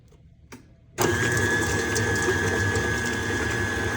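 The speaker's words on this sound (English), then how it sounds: "I have it in my stand mixer with the paddle attachment, and we're gonna start this on low." Stand mixer with a paddle attachment switches on at low speed after a quiet moment, then runs with a steady whirring motor hum and a constant high whine, close by.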